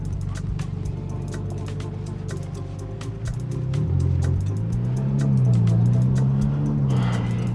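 A Ferrari Portofino M driven in comfort mode, heard as a low engine drone that rises and falls in pitch as it accelerates, with scattered clicks and cabin noise and no clear talk.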